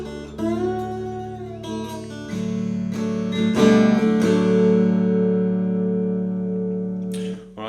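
A blues introduction to a song played on slide guitar: close, loud sliding notes over sustained bass strings, ringing steadily for several seconds before fading out.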